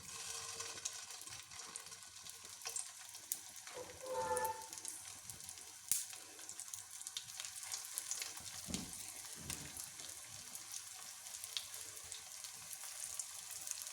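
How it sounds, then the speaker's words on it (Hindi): Kebabs fry in hot cooking oil in a pan, giving a faint, steady sizzle and crackle with a few brief bubbling bursts partway through. "यहाँ पर कुकिंग ऑयल हमारा गर्म हो गया। अब हम इसमें ये कबाब डाल देंगे।"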